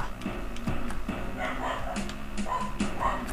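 A dog gives repeated short barks and yips at a moderate distance, mixed with someone talking over video game sounds.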